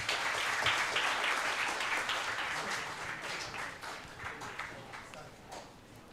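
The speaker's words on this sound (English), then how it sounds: "another round of applause for our distinguished leaders." Audience at a campus startup project expo applauding distinguished leaders, a steady wash of many hands clapping that slowly fades over several seconds, moderately distant.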